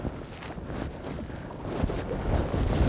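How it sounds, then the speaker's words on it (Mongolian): Wind blowing hard from behind across an open outdoor setting where a sail or kite-like rig is being handled, a steady broadband rush that swells louder in the second half, with no voices. "Араас салхитай байна. Өчтэй салхитай байна."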